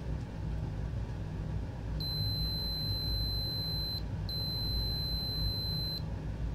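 A multimeter in continuity mode beeps while probing a repaired circuit board, two steady high-pitched tones each lasting about two seconds with a brief gap, heard close over a low background hum.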